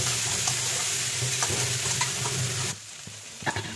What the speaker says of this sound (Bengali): ভালো করে ব্রাউন করে লাল লাল করে একটু ভেজে নেব